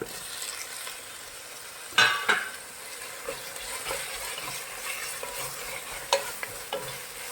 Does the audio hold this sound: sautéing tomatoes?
yes